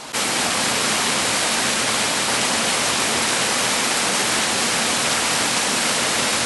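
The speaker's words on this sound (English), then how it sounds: "And we've got waterfall below." Waterfall in the Lake District near Walla Crag and Derwent Water, a steady, loud, broadband rush of falling water that continues unbroken with no voices.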